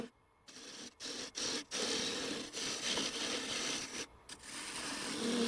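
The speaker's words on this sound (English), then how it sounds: "Now I'll move on to shaping the bottom half of the egg, which is still mounted on the lathe." Wooden Easter egg spinning on a wood lathe while a chisel shapes its lower half, giving a steady close scraping and rasping hiss with a few brief pauses as the tool lifts off the wood.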